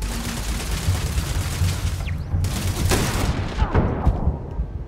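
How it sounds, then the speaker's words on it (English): A turret in the video game Starfield fires a sustained, dense burst of rapid gunfire that stays loud and steady for about five seconds, with no speech. "that's a turret!"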